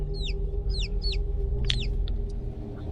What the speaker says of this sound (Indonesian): suara anak ayam tersebut menghilang dan muncul kembali setiap beberapa meter mereka berjalan